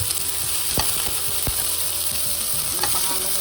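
Chicken sautés in a hot pan with a loud, continuous sizzle, while scraping, stirring strokes from a utensil come through clearly on top.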